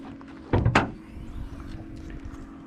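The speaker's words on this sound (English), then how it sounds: "So we can pop the hood." Hood release on a 2019 Porsche Cayenne Turbo, two quick mechanical clunks close together near the start, followed by a quieter rustle as the hood lifts, with no talking.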